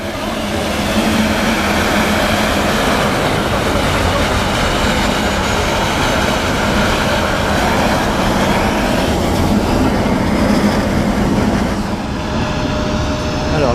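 Steady, loud broadband roar of a small passenger plane in flight to Lukla in the Everest region of Nepal, a continuous engine and cabin drone with no voices, easing slightly near the end.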